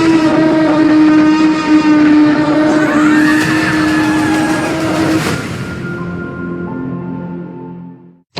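Motorcycles racing through a desert in the Super Mario Galaxy film trailer, a loud sustained engine roar with a rising whine that sweeps past and then fades into a lower drone under music.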